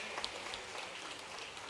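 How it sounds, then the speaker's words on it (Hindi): Applause from an audience at a school inauguration ceremony, a faint, steady wash of clapping lasting under two seconds with no voices over it. "आइए यशस्वी प्रधानमंत्री के लिए जोरदार ताली बजा के अभिनंदन करें।"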